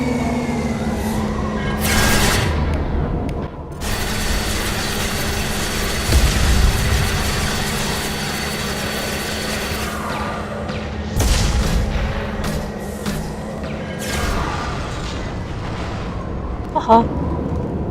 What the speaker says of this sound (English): I can just shoot missiles at people.